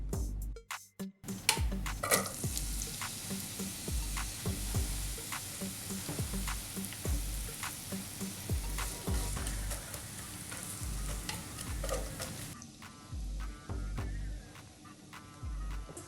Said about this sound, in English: Now we're gonna add finely chopped diced onions